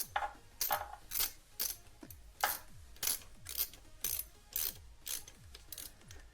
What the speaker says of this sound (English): we are actually going to go down here and remove this bolt for the shift lever